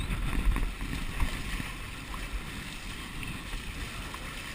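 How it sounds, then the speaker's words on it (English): Wind blowing while sailing a small boat through Reynolds Channel under the Long Beach Bridge in New York, a steady low rumble of wind and water with gusty buffeting on the microphone at the start, then easing. "And we got a nice wind here."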